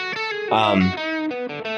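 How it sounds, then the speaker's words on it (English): Heavily distorted electric guitar with a thick, saturated amp tone, chords ringing out in short bursts with a brief louder swell in the middle. "Big mid-rangey focus distortion, just like what you'd hear out of a JCM 800 with all the thunderous low end"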